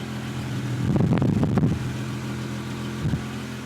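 A Volvo 164's idling engine rumbles low with an irregular puffing, ticking flutter from several exhaust leaks, briefly louder, then settling into a steady idle.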